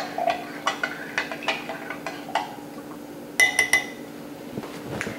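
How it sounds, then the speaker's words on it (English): A spoon stirs lemon juice for sorbet in a bowl, making light rhythmic clinks and scrapes close by, with a brief brighter cluster of ringing taps partway through. Nobody talks. "Just give it a little stir."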